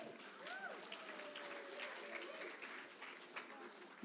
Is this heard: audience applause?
yes